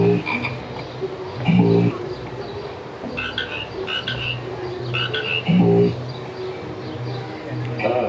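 Frogs croak in a loud, rhythmic chorus at a DreamWorks Land theme park attraction where a man sets them singing, with regular pulsing bursts and a steady low drone under faint background chatter.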